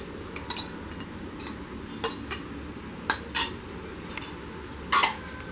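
A spoon clinks and scrapes against a pot as beetroot rice is mixed, several sharp metallic taps spaced irregularly over a soft background hiss, close and moderately loud.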